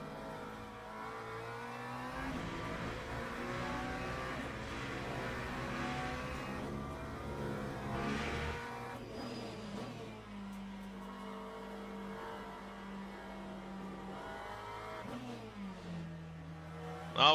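Simulated race car engine in Le Mans Ultimate at the Paul Ricard circuit, revving up and dropping through gear changes under braking and acceleration, loud and continuous from the cockpit.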